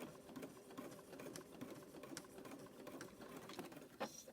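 Sewing machine back stitching while making a rope and fabric coaster, a faint steady mechanical whir with rapid needle ticks running throughout, fairly quiet and close.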